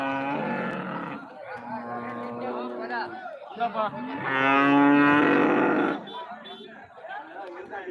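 Cattle moo loudly and repeatedly at close range at a Chintamani cattle market, long drawn-out calls over a background of chatter and market bustle.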